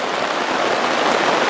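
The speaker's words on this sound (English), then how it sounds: "He's braving the rain, I guess." Steady rain falls outdoors beside chicken pens under construction, a dense, even hiss of drops that stays loud and unbroken throughout.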